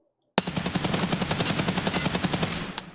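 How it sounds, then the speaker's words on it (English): A DT MDR rifle in a video game fires one continuous full-auto burst of about twenty evenly spaced, punchy shots, loud and close, starting abruptly after a brief silence. "this is the DT MDR with the Voodoo sight on it"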